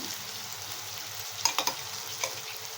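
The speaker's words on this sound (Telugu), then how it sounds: "ఇది కూడా బాగా ఫ్రై చేసేయాలి" Green chili, ginger and garlic paste with turmeric frying in a pan for Rayalaseema-style uggani, a steady soft sizzle with a few brief clinks of a stirring spoon near the end, no talk.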